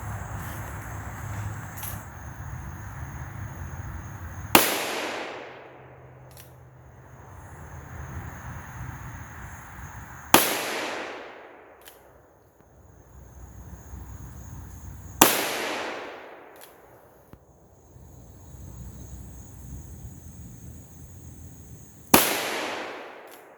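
Four loud, sharp gunshots from a revolver firing 38/357 158gr semi-wadcutter bullets, spaced several seconds apart outdoors, each followed by a trailing echo.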